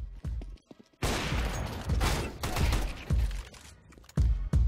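Gunfire in the video game CS:GO, a dense burst of overlapping shots and rattling fire that flares loud after a quieter opening, with a few sharp single shots near the end.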